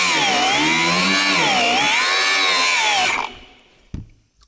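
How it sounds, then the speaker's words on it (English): An angle grinder cuts metal on a John Deere 7810 tractor, a loud high whine that wavers in pitch for about three seconds before spinning down, followed by a single clunk. "Thought it would look better using the grinder than using the plasma cutter."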